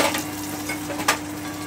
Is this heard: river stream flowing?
no